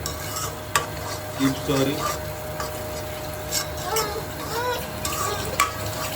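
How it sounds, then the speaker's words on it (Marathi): Eight cracked eggs are stirred in a hot pan for egg bhurji, giving a continuous sizzle with scraping spatula strokes and occasional light clinks, up close, with a brief spoken word in the middle. "8 अंडी आता मी फोडलेली आहेत आणि जस्ट स्टर करत जायचं"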